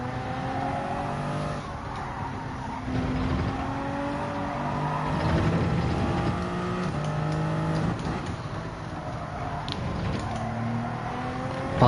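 Toyota Supra race car in Gran Turismo 7 at Spa, its engine droning steadily with rising and falling pitch through gear changes, loud and continuous for the whole stretch, understeering through a corner.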